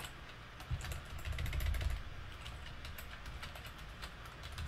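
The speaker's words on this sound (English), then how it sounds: "So this is gonna be some typing here" Typing on a computer keyboard for a SuperCollider coding session: rapid, irregular clicking keystrokes close by, steady throughout with a low hum underneath, no voices.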